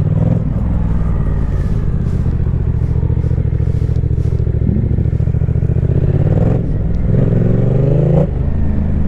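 A Yamaha Tracer 700 motorcycle engine drones loud and steady while riding, with rising revs and gear changes over constant wind rush.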